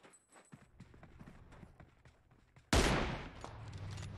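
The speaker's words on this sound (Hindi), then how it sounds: "दोनों स्नाइपर वर्सेस स्नाइपर कॉम्बैट चल रहा" Soft, quick clicks of in-game movement in a battle royale shooter, then one sudden loud sniper rifle shot whose heavy report slowly decays to the end.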